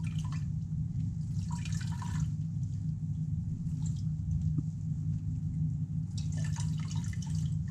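Juice drips from a squeezed elderflower mixture being pressed by hand for syrup, in two short bursts of trickling over a low, steady background hum.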